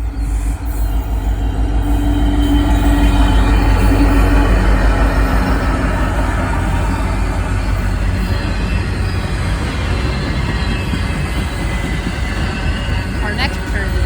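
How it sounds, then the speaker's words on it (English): NS double-stack freight train led by two brand-new Union Pacific locomotives rumbling past close by, a loud continuous roar of wheels and cars with a brief high squeal near the end. "Two brand new Union Pacific engines here, leading this NS stack train."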